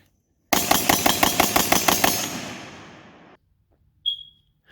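AR-15 rifle fitted with a CQB trigger fires a rapid burst of about ten evenly spaced shots in roughly two seconds, loud and close, with a ringing tail, then one more sharp sound a moment later.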